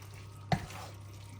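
A single brief scrape of a spoon stirring and mixing a food mixture in a bowl, one close clink standing out against a quiet background hum.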